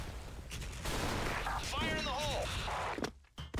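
Video game gunfire, rapid bursts of shots with ringing tones and a whooshing effect, loud and close, then a brief pause and another hit near the end.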